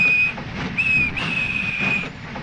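Several high, hissing whistle toots in a row, like a small steam engine's whistle, over a low rumbling background.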